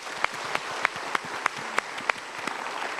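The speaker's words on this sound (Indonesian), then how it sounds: "kita berikan tepuk tangan" A studio audience at the Mario Teguh Golden Ways talk show applauds, with sharp claps landing in a steady, evenly spaced rhythm over a bed of lighter scattered clapping, moderately loud and without talk.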